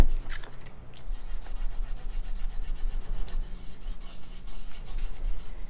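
A steady, close scratchy rubbing as paper is scrubbed back and forth over an embossed scrapbooking card to lift off ink, continuous with a fast repetitive texture and no talking.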